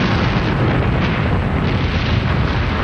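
A volcano eruption sound effect for a children's TV challenge, a loud, continuous, deep roaring rumble of explosive blasts that fills the whole stretch without pause and with no talk over it.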